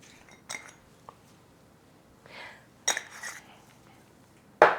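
A utensil stirs steak seasoning, pepper and garlic powder together in a dish, giving a few scattered clinks and light scraping taps, close but soft, ending on a sharper metallic knock.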